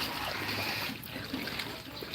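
Floodwater flowing and trickling outdoors, a steady hissing wash of moving water with faint gurgles and splashes throughout, fairly close and continuous.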